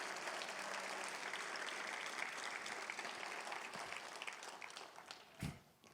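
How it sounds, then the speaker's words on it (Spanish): Congregation applause during a Sunday church service, a broad wash of clapping from many people that carries on steadily, easing slightly near the end with a brief thump close by. "Denle un fuerte aplauso a Dios."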